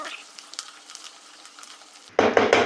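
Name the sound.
bottle gourd and ridge gourd frying in a pan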